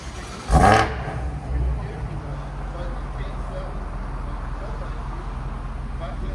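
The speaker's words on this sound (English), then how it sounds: "You guys ready to hear this X6M competition?" A 900 hp BMW X6 M Competition fitted with downpipes and Vibrant resonators, giving one sharp, loud rev up close and then settling into a deep, steady idle rumble.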